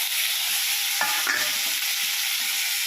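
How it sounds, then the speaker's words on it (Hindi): Steady sizzling and frying in a pan as tomatoes are added to fried garlic, chilli and onion, with a brief burst of louder crackle and stirring about a second in, continuing evenly to the end. "अब मैं टमाटर दे देती हूँ"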